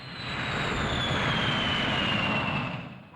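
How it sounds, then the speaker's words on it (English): A turbine jet engine roars loudly and steadily from a jet pipe, with a high whining tone sliding slowly downward over a dense broadband rush, swelling in and easing off at the end, with no voices. "the expanding gas roars from the jet pipe with tremendous force. This is the turbine jet"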